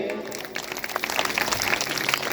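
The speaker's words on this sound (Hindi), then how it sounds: "ताली बजाएंगे" A gathering at a religious katha bursts into applause after a donation announcement, clapping building quickly from a quiet start into a brisk, fairly close patter that runs for a couple of seconds.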